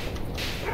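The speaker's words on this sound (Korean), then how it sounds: "아, 댕댕이!" A dog barks in a 2D side-scrolling action game, a brief, compressed yelp heard over a dense, noisy game soundtrack.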